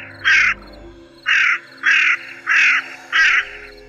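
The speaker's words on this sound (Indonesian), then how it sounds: "Terdengar burung gagak begitu berisik mengadang perjalanan kami." Crows caw five times in a steady, evenly spaced series, loud and close, each call a harsh burst, with a faint low rumble beneath and no voices, used as an effect in an Indonesian mountain horror story.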